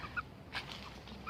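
Chickens clucking in a no-dig vegetable garden, a few soft, short clucks spaced irregularly over quiet background, fairly faint and nearby.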